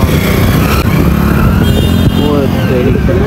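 Motorcycles and cars pass close by at a jeep rally in Thal, engines droning loudly and continuously over crowd noise, with voices talking throughout.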